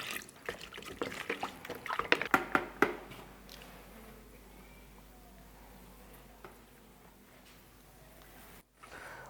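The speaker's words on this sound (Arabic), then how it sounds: "وهنضيف شوية مية" Water is poured and splashed into gold paint, a short burst of trickling and dripping for a few seconds that then fades into a quiet room with faint clicks.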